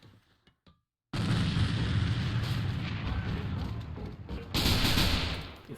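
A loud, close grenade blast erupts in the online shooter A.V.A during a tournament match, breaking a near-silent start into a sustained, broad roar that swells again toward the end.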